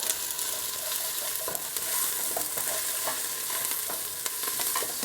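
Onions sautéing in a soup pot, a constant gentle sizzle with a spoon stirring and scraping them at intervals, heard up close with no talking.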